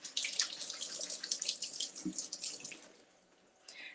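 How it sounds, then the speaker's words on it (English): Blueberries rinsed under running tap water: a steady close splash and hiss of water into a sink, with a brief knock midway, then the flow quiets and trickles near the end. "we're going to rinse off our blueberries"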